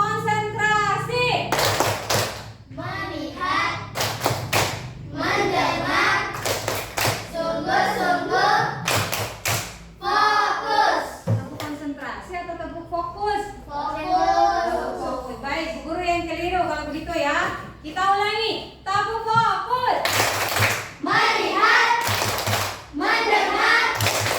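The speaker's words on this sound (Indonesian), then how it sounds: "Tepuk" Children clap their hands in sharp bursts of several claps, repeated throughout amid lively child speech and a teacher's voice in a classroom.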